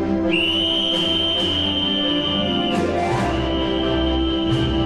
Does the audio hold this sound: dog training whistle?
yes